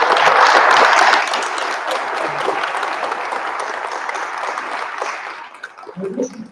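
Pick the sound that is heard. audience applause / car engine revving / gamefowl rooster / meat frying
audience applause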